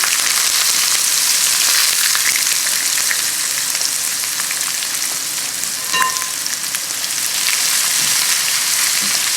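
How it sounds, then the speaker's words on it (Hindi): Steady, loud sizzling of cumin seeds frying in hot ghee, a dense crackling hiss with a few brief pops along the way. "यहाँ पे घी हो चुका है गरम, इसमें आप डालेंगे ज़ीरा।"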